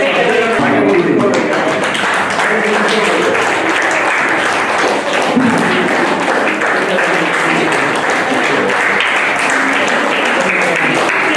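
An audience at an inauguration event in Mysuru claps loudly and continuously, dense applause with scattered individual claps and a murmur of voices underneath.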